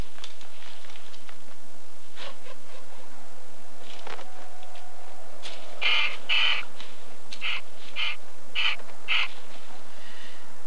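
Young ravens and their parents call around a nest in the Colorado Rocky Mountains, a series of harsh croaks and caws in short bursts over a steady background hum.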